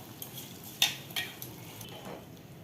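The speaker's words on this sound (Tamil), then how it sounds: "ரைஸ் போட்டுட்டு நல்லா ஒரு கலரி விட்டுக்கணும்." A utensil scrapes and clinks against a pot as rice is stirred into vegetable biryani, a few sharp metallic taps and soft scraping strokes, quiet and close with no talking.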